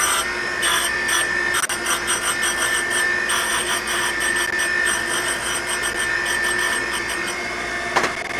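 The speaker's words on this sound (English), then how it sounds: "we're going to grind this mating surface of the connecting rod and the cap" Steady abrasive grinding on the mating surface of a connecting rod cap from a 1968 Pontiac Firebird 350 engine rebuild, a continuous loud rasping whir holding for several seconds with a brief catch near the end.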